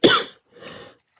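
A single close, harsh cough bursts out and is followed by a softer, breathy second cough with a throat-clearing quality, and then silence.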